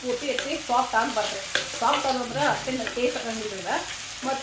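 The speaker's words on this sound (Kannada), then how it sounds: "ಕರಿಬೇವು ಹಾಕಿ ಚೆನ್ನಾಗಿ ಎಣ್ಣೆಗೆ ಫ್ರೈ ಮಾಡಿರಿ" Curry leaves and long-sliced onion fry in hot oil for rava masala dosa, giving a steady close sizzle with crackling bursts and stirring throughout.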